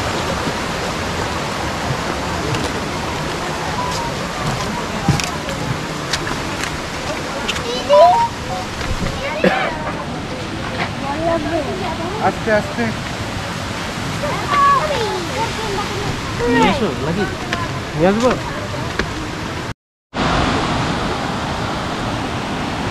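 Water tumbling down Bamni Falls in Purulia, a constant broad rushing roar close by, with a voice speaking briefly over it and the sound cutting out for a moment near the end.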